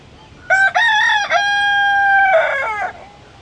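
A rooster gives one long, loud, close crow that rises, holds steadily and then breaks off, while chickens are being offered ripe red ivy gourd fruit. No one speaks.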